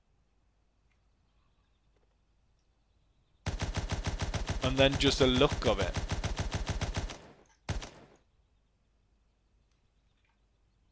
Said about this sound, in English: Fedorov machine gun. Listen to that sound.